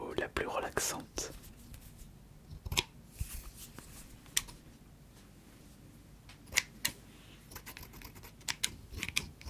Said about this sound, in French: Ça c'est ma paire de ciseaux la plus relaxante.